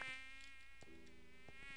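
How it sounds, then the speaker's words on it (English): A buzzing fly or bee mob in the Minecraft video game, a continuous faint insect drone with a few brief clicks and shifts in pitch, heard alone. "You think I'm scared of some fly or bees or whatever you want to call yourself?"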